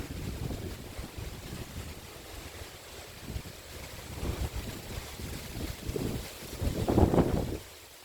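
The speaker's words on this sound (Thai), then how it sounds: "าะเสียงลมค่ะ เสียงลม" Gusty wind buffets the microphone outdoors after dark, in uneven low rumbling bursts that swell and fade, loudest near the end, with no one talking.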